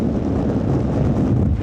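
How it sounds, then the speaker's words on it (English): Strong wind buffets the microphone on the coast at Dunkirk in northern France, a steady, loud, low roar that fills the whole stretch with no voices. "Now I am back here in Dunkirk, north part of France, and it's so windy."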